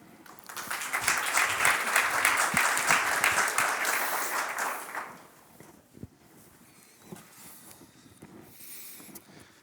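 An audience at a City of Vienna event claps loudly for about five seconds as a presenter is called to the stage, then the applause fades into scattered claps and room noise.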